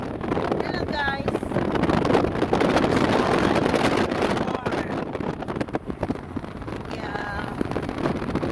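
Cold, gusty wind rushes in through an open car window on a drive out to farmland, a steady loud roar buffeting the microphone throughout.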